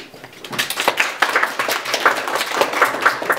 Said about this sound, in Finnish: Antakaa raivoat aplodit illan emännälle Torete-salmilaisille